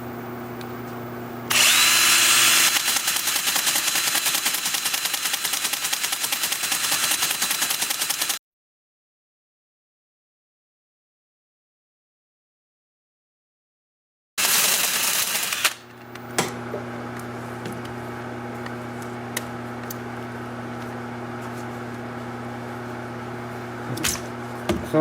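Wood lathe spinning a cherry limb bowl at about 300 RPM, a loud steady whirring with gouge cutting noise, broken by a silent gap before the machine starts up again and runs on with scraping.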